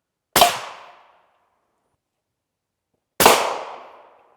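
A CMMG .308 rifle fires at an AR500 steel armor plate, two sharp, loud reports about three seconds apart, each trailing off quickly into silence, with no talking.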